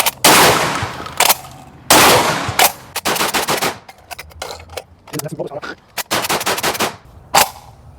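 Gunshots from a Çelik Arms Buck Master Gen 2 shotgun firing Remington ammunition, several loud sharp blasts at irregular intervals, with quieter mechanical clatter of the action between shots.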